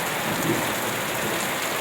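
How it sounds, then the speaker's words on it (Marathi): Heavy unseasonal rain with hail falling on a farm area, a dense, even hiss of downpour that stays steady and fairly soft throughout, with no voices. "असं अवकाळी पाऊस सुरू झालेला आहे आपल्या परिसरात"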